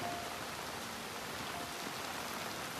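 Soft, even monsoon rainfall in the Konkan hissing continuously on surfaces, faint and steady with no voices.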